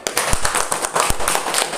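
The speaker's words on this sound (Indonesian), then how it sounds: "Kita berikan tepuk tangan untuk kelompok 1" Students in a classroom applaud a presenting group with a dense, sharp patter of many hands clapping at close range, steady throughout.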